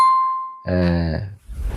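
A bright notification bell rings once and its tone fades, then a sung note and a noisy burst follow. It serves as a subscribe-bell cue at the close of a Brazilian football channel's Palmeiras–River Libertadores segment.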